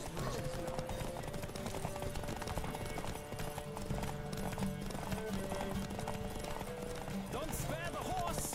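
A horse gallops in a race in a Witcher video game, its rapid hoofbeats drumming continuously beneath game music, with a brief whinny near the end.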